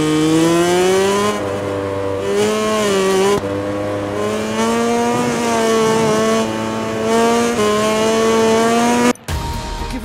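A MotoGP bike in the video game MotoGP 20, a KTM Tech3, leaves the pits onto the track at Mugello. Its engine holds a loud, steady, high drone close by, with the pitch stepping up and down through gear changes until it cuts off abruptly near the end.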